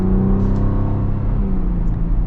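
A Ford Bronco Raptor's engine and exhaust: a deep, continuous rumbling drone, loud and close, holding steady without a clear rise or fall, with no talk.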